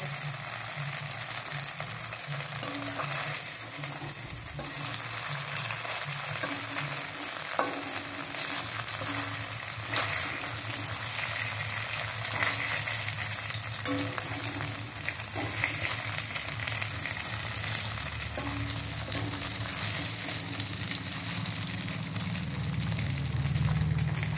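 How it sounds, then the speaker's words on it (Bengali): Semolina and potato snacks fry in hot oil, crackling and sizzling steadily for the whole stretch, with occasional utensil scrapes and stirring sounds close by and no one talking. "এগুলোকে ভেজে নেব।"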